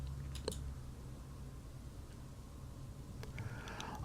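A computer mouse clicks faintly a few times, brief sharp ticks spaced apart over a quiet room hum.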